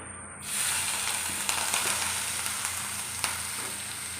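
A sizzle erupts as an onion mixture hits hot oil in a clay pot, then settles into continuous hissing frying with a few sharp pops, moderately quiet.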